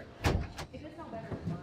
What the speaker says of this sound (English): I'm going to open these doors and get out of here.